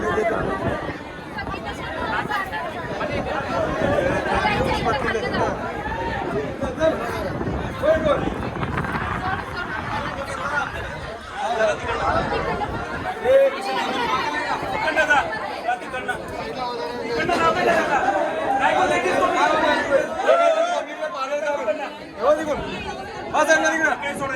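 A dense crowd at a Mahashivratri festival, many voices chattering and overlapping into a constant loud babble with footsteps and movement throughout, close and continuous, with nearby speakers talking over it.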